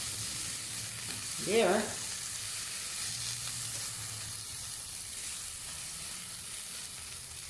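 Noodles fry in a pan with a splash of soy sauce, giving a soft, steady sizzle throughout. A single brief spoken word cuts in near the start.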